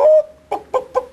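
A chicken clucks close by, one drawn-out call followed by three short, sharp clucks at a steady rhythm, with no talking.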